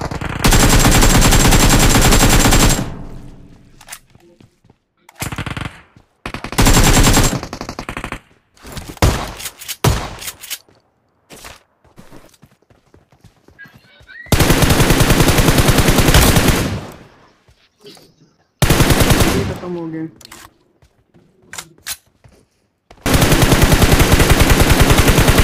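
Bursts of automatic MP16 gunfire sprayed in a video game, long loud sustained volleys alternating with short quieter stretches and scattered shots.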